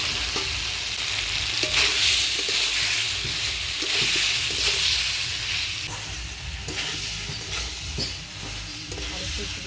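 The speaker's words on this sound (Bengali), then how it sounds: "আলু ফুলকপি দিয়ে মশলার সাথে ভালো করে কষাই নিচ্ছি" Potato and cauliflower being stir-fried in spice paste for a Bengali vegetarian curry, a steady loud sizzle with hiss and repeated scraping stirs of a spoon against the pan throughout, no talking.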